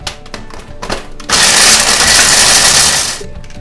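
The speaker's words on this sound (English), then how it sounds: "take these pieces of bacon and throw them into the Ninja. They've been in the freezer for a little while. I'm gonna grind these up." A Ninja blender grinds frozen bacon pieces with a loud, steady whirring roar lasting about two seconds, after some brief clatter and handling noises.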